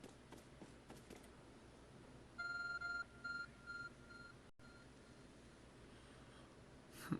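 Glowing object in the Pokemon Legends: Arceus video game emitting a faint repeating electronic beep, a few short tones in a quick cluster over a quiet game ambience.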